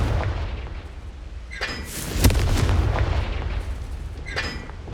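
Confringo fire spell blasts cast in the Hogwarts Legacy video game on PS5: two sharp bursts with a booming explosive impact and rumbling low-end, loud and close over a steady ambient background, no talking.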